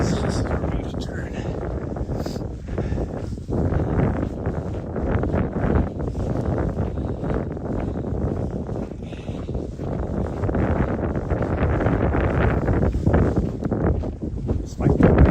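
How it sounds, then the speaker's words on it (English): Strong wind buffets the microphone on an open mountain trail in Montana during a run, a continuous loud roar and rumble that persists throughout with gusty swells, with a voice faintly present. "Despite the wind, it is really nice out here."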